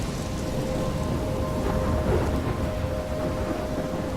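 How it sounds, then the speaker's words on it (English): Thunderstorm with rain in the video game Life is Strange: heavy rain hisses steadily while a deep rumble of thunder swells and rolls beneath it, loud and unbroken throughout. "I'm trapped in a storm."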